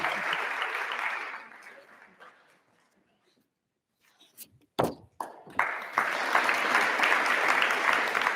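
Audience applause at a high school senior academic awards ceremony: full clapping fades into near silence with a few scattered knocks, then swells back into loud, sustained applause.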